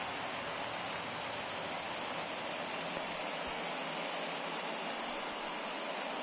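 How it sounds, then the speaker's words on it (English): Steady broadband rain hiss fills a ballpark in the MLB The Show 22 baseball video game, a constant even wash of falling rain with no talk. "the field's not going to be able to hold up if the rain gets any worse than this"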